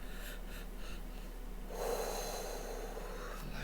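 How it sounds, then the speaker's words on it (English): A man on oxygen, short of breath from a breathing problem, gasps and snorts for air nearby, a few soft breaths followed by a louder, harsher rasping intake, with no speech. "Gasp for air."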